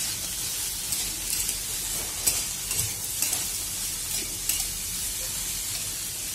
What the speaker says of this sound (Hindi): अब इसमें आलू डाल देंगे, साथ साथ कैप्सिकम भी डाल देंगे